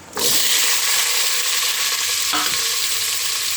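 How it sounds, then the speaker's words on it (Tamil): Tomato, onion, green chilli and radish sauté in a hot pan, a loud, steady sizzle starting abruptly and running throughout, with a brief scrape of stirring partway through. "ரெண்டு தக்காளி வெங்காயம் ஒரே ஒரு பச்சை மிளகாய் முள்ளங்கி எல்லாத்தையும் நான் போட்டு நல்லா வதக்கிக்கிறேன்"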